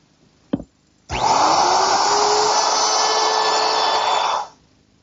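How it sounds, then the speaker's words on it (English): A table-mounted router fitted with a quarter-inch rounding-over bit runs in one steady, loud whine for about three seconds, easing the edges of a wooden plant stand's top shelf. A single sharp knock comes just before it. "To ease the edges on my top shelf, I'm using my router, which I've equipped with a 1/4-inch rounding over bit"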